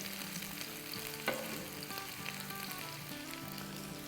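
Chicken pieces fry on their second side in a pan, a soft, steady sizzle with light crackles and one brief clatter, quiet and close with no voices.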